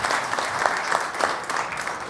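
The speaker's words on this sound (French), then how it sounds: "Je vous demande d'applaudir Laure Bourgois." A studio audience on a French talk show greets an arriving guest with warm, steady applause: dense clapping that stays at an even level for the whole stretch, with no talk over it.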